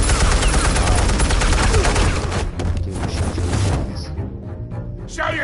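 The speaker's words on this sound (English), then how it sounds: "Shotgun." Rapid gunfire erupts in a Batman video game, a dense, loud volley of repeated shotgun blasts for several seconds before thinning into scattered, fainter shots, with some voice activity mixed in.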